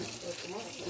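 Water running steadily from a household tap into a sink, a continuous close hiss with faint voices beneath it.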